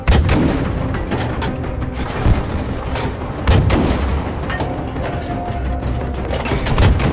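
A tank battle in the World War II shooter Battlefield 5, dense continuous rumble of gunfire and clanking machinery, with periodic heavy cannon booms punching through a loud battlefield din.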